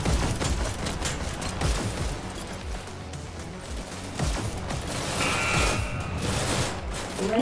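Rapid bursts of gunfire in the VR shooter Hyper Dash rattle on continuously, with mechanical clacks and a brief bright tone near the end, loud and busy throughout.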